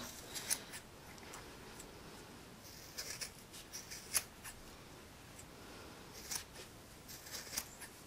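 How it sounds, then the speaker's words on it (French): Scissors snip a small opening in material during a knitted-scarf craft session: a series of soft, light cuts and crisp clicks spread across the clip, faint and close, with no talking. "les ciseaux, je me fais une petite ouverture"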